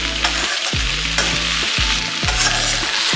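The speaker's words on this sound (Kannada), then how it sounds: "ಮೀಡಿಯಮ್ ಫ್ಲೇಮಲ್ಲಿ ಇದನ್ನು ತಳ ಹಿಡಿದಿರೋ ಹಾಗೆ ಇದೇ ರೀತಿ ಇದನ್ನು ಫ್ರೈ ಮಾಡ್ಕೋಬೇಕು" Okra frying in oil in a pan over a medium flame, a steady loud sizzle broken by repeated stirring scrapes at a regular pace, close up and with no voices.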